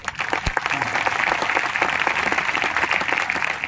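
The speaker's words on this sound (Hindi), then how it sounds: "आगे के धीरे ताली बजाओ" A church congregation claps in a dense, steady round of applause that holds evenly throughout, with no clear talk above it.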